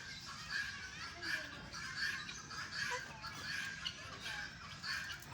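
A white crested parrot gives repeated harsh squawks at a steady rhythm, fairly loud and close, over a constant hiss of background noise.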